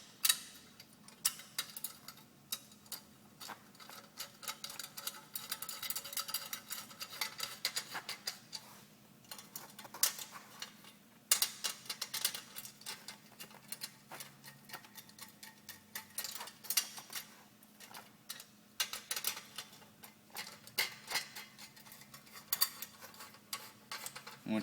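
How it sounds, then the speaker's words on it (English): Exhaust bolts are snugged down on a Big Dog motorcycle during a Big Radius exhaust install, giving faint, quick clicking in irregular bursts, like a hand tool ratcheting, close by and with no talk. "Bring them down just snug the first time as you're putting them all together."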